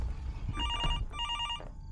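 Two quick electronic rings from a motel room telephone, moderately loud over low room noise, with a brief muffled voice sound between them.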